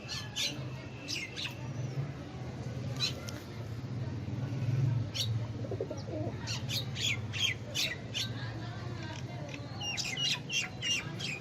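Birds chirp and squawk in quick high bursts over a steady low hum, with a soft murmuring undertone that fits pigeons cooing.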